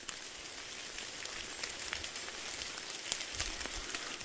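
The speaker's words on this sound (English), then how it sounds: "Can you hear that sound of that rain?" Steady rain patters and hisses on surfaces nearby, an even wash of drops with occasional louder taps.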